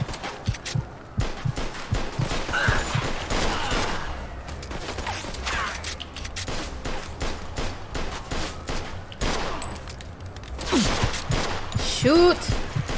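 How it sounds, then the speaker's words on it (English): Gunfire in the video game Mafia II, including shotgun blasts, cracks out in repeated loud bursts and volleys amid game noise, with someone talking over parts of it. "He got a shotgun."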